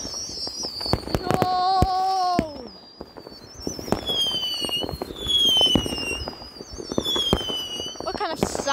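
Fireworks go off across a neighborhood on New Year's: rapid crackling bangs and pops mixed with high whistling rockets that rise and waver, in a dense, continuous barrage, with people's voices exclaiming now and then.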